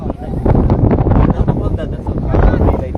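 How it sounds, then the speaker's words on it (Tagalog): Strong wind buffets the microphone on a breezy hillside at Highlands Park in Legazpi, Bicol, a loud steady rumble with voices talking over it throughout. "Super sarap ng hangin."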